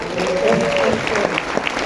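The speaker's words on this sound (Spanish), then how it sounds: "Un aplauso para todos ustedes" Workshop audience giving a round of applause, dense clapping from a room of people with a voice briefly audible underneath at the start, individual claps standing out toward the end.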